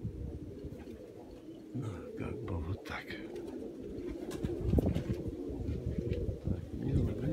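Pigeons coo at a pigeon loft on a hot day, soft and close, with some chirps throughout and someone speaking briefly over them.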